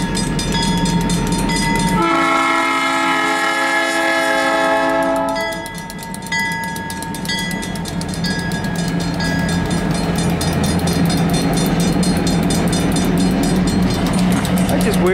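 Train engines pass close by with a loud, sustained horn blast for a few seconds, then continuous rumbling and rail clatter carry on steadily to the end.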